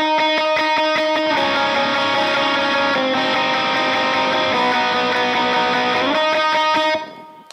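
Electric guitar building through effects in a worship song part, with rapid repeated picked notes swelling into a dense, distorted, sustained wash, then cutting off abruptly near the end; loud and without talking.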